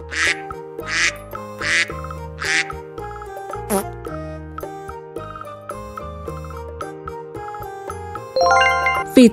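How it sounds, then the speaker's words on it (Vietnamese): Mallard duck quacks come in a quick run of three or four sharp calls, then a single one, over tinkling music, with a louder chime-like flourish near the end. "Vịt trời. Mallard."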